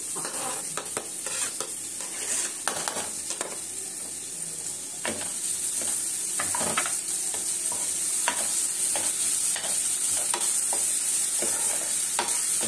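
Chopped onions sizzle and fry steadily in a hot pan, a constant frying hiss broken by repeated scraping clicks from stirring, close and fairly loud with no talking.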